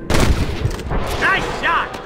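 Gunfire in the Western game Red Dead Redemption: a loud, sharp burst of shots at the start, followed by a brief voice and in-game background noise.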